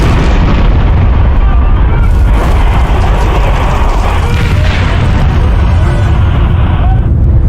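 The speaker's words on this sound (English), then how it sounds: "The massive explosions can be seen throughout the city." A massive, sustained explosion at a tanker complex roars loud and close, a deep rumbling blast that fills the whole stretch without letting up.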